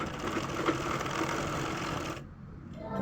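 Sewing machine stitching salwar fabric, a rapid close mechanical whirring and clatter that runs steadily for about two seconds, then stops abruptly, leaving near silence.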